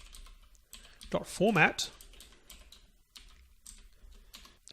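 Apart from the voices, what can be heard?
typing on a computer keyboard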